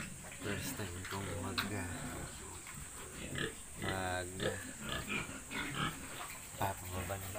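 A large white pig in a backyard farm in the province grunts repeatedly while being unloaded, its low grunts close and fairly loud, mixed with people talking throughout.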